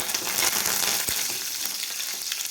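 Curry leaves hitting hot oil for a tempering, a loud, dense crackling sizzle that runs continuously for a couple of seconds with one sharper pop midway.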